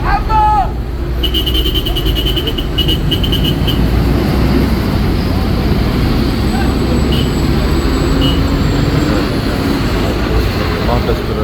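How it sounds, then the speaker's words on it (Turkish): Buses passing through a crowded street in Mecca on a Friday morning, a loud, steady roar of engines and traffic rumble that runs the whole time, with faint high tones and crowd noise mixed in. "şu anda otobüsler"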